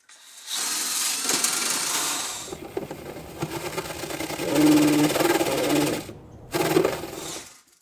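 A power drill spins a dryer vent cleaning brush in bursts: a close, buzzing motor whine that runs for a few seconds, drops to a lower rattling spin, then revs again briefly before cutting off.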